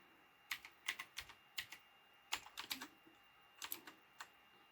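Soft, close typing on a computer keyboard with badly soldered keys, in uneven bursts of clicky keystrokes, with short pauses between groups and a faint steady hum underneath.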